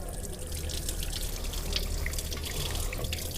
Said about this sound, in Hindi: इसको साथ साथ हम पानी डाल देंगे